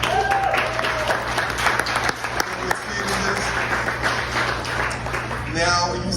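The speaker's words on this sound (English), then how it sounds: "give a round of applause to these two" An audience claps steadily at a New Delhi restaurant's 33rd anniversary celebration, with sustained dense applause and crowd voices mixed in throughout.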